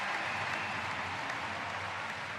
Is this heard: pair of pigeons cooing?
no